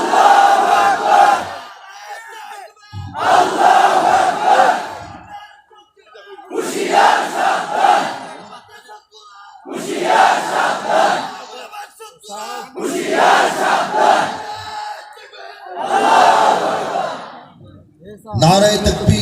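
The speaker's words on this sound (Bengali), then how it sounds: "একজন মর্দে মুজাহিদ দাঁড়িয়ে নারায়ে তাকবীর দেবে।" A large crowd chants Nara-e-Takbir, Allahu Akbar in unison, six loud call-and-response bursts separated by short pauses, voices roaring together at a rally.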